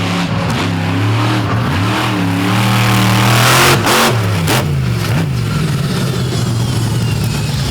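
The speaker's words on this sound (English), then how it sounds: "Amped up, Ryan Holman, the big black Chevy out of Dayton, Ohio, ready to show how quick this family is on a straight line track." A big black Chevy drag racing car from Dayton, Ohio revs hard and loud at close range on a straight line track, engine pitch swooping up and down in several blips before a sustained full-throttle roar.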